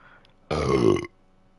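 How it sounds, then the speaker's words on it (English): A single loud belch after drinking cream soda erupts for about half a second against quiet surroundings, with no talking. "was a huge belch"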